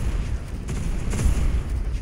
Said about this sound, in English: Wow, these explosions are loud.